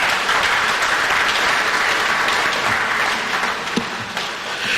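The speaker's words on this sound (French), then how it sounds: "Je vous demande d'applaudir cette idée." Loud, sustained audience applause at a cultural event in Kinshasa, many hands clapping in a dense, even roar that holds steady throughout.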